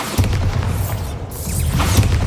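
A Bombarda blast spell in the Hogwarts Legacy video game goes off as a heavy, sustained rumbling boom that fills the whole clip, loud and close with low-end roar throughout.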